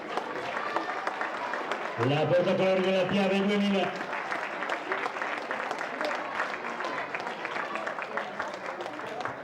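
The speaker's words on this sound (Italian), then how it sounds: "incoraggiamola con un applauso" Audience applause rises at an athletics race, a youth regional track championship, while an announcer talks continuously over the crowd; a held tonal sound stands out briefly early on.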